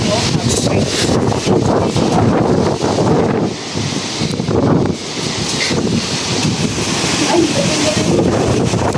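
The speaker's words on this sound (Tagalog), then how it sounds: "Ang lakas ng hangin, oh." Powerful gusts buffet the microphone near a storm-damaged corrugated metal roof, a loud, continuous roar that surges and dips over nine seconds, with faint voices partly buried beneath it.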